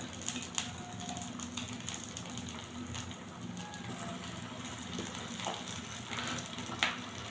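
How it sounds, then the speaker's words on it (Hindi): Shami burger patties frying in ghee on a griddle over low heat, a soft steady sizzle with faint crackles and pops scattered throughout, quiet and continuous without talk. "तो ये इसी तरीके से हम इनको फ्राई कर लें, 2 मिनट इस साइड से और 2 मिनट दूसरी साइड से।"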